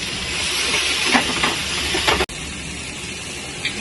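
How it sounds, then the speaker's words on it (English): Onions sizzle and hiss steadily in a pan after a sprinkle of salt, a continuous frying crackle with a few louder spits and one abrupt brief dropout, no talking. "when you're cooking onions and if you want it to brown faster, you throw in some salt"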